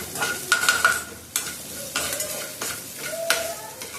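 Oil sizzles steadily in a pan while okra is stir-fried, with repeated scraping and clinking of a utensil against the metal.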